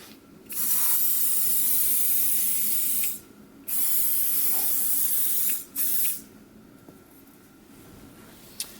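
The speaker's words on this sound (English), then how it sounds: "I'm going to spray the heck out of it with some mold release lubricant" Close, loud aerosol spraying of mold release lubricant into a coaster mold, long hissing bursts, the first two lasting a few seconds, then a quick short spurt followed by another burst.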